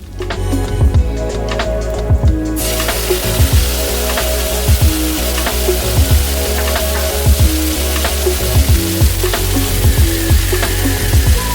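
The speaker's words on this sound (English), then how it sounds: "Garlic is chopped up. Now I'm just gonna add that into the pan, let it saute a little bit and get nice and cooked" Chopped garlic sizzles and fries in a hot pan, a steady close crackle with occasional stirring scrapes throughout, no talking.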